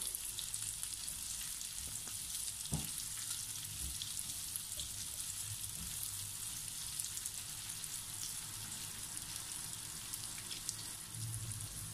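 Carrots cook in a hot pan with a steady, even sizzle that runs without a break, close and moderately loud, with a few faint clinks along the way.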